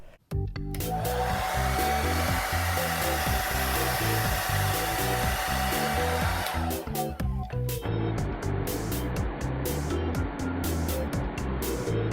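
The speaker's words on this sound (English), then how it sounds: "I accidentally turned on the hairdryer" A hairdryer switches on and blows with a loud, steady whooshing motor roar that keeps going at close range, its airflow shifting slightly partway through, with no talking.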